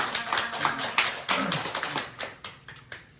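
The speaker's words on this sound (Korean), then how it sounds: "그냥 박수 쳐드리겠습니다" A church congregation breaks into brief applause to welcome a first-time visitor at a Sunday service, a few uneven bursts of clapping and taps fading out over a few seconds.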